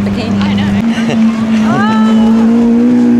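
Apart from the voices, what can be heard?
Lamborghini sports car engine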